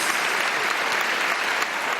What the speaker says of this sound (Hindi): तालियां बजाओ इस बात पर